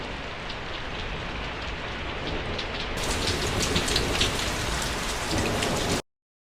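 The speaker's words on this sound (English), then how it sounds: "it is still raining heavily outside" Heavy rain falling outside, a dense, steady patter of drops on surfaces heard close and loud throughout, growing brighter partway through, with no voices before it cuts off.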